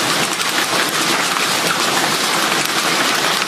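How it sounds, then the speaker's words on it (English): Hail pelts a camera, a loud dense continuous patter of impacts like a heavy downpour drumming close on a hard surface, with no gaps. "He said hail just hit my camera."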